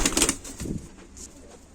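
Perçem tumbler pigeons, close by, give a short burst of soft cooing and rustling wing movement over under two seconds, with no talk.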